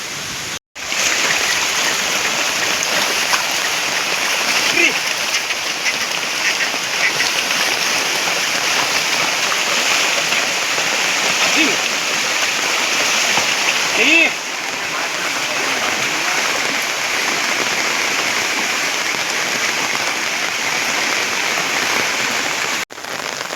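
Heavy rain pours steadily over the Gir hills in the morning, a dense, continuous wash of noise with faint voices now and then.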